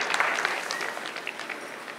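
Applause for the winning team, Higashi Fukuoka Youth, at the closing ceremony of the Sanix Cup international youth soccer tournament: a steady, dense wash of clapping from a crowd, fairly close and even throughout.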